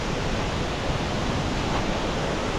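A steady, dense rush of falling water fills the air, broad and unbroken like a nearby waterfall, at Malatan-og Falls in Don Salvador Benedicto, Negros Occidental.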